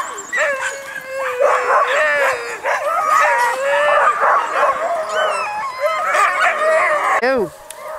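Sled dogs on the Salcha River bark and howl in a dense, continuous chorus ahead of a mushing run, with yips layered over long howls close by and a sharp final yelp.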